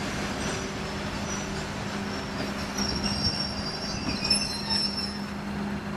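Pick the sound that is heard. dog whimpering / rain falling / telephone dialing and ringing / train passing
train passing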